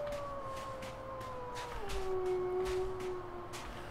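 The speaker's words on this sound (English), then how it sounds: "There are wolves somewhere around here." Wolves howl in the survival video game The Long Dark, long gliding tones that bend downward over a soft wind-like background, with faint rhythmic footstep crunches.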